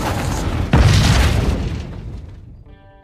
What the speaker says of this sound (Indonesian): Pada akhirnya, pesawat luar angkasa tersebut meledak,